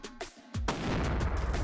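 A rifle shot with a Federal Trophy Copper 165 grain bullet fired into ballistic gel: a sharp, loud crack around the middle followed by a broad, sustained roar and echo, with some smaller clicks and thumps before it.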